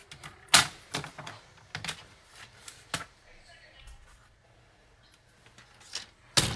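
A paper trimmer slices cardstock in sharp, quick cutting strokes scattered among softer handling rustles and taps, close and fairly quiet.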